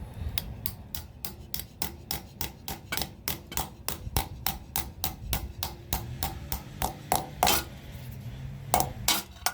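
Steady, rapid hammer blows driving a metal anchor into a hole while installing exterior handrails, about three per second, loud and close, with a few heavier strikes near the end.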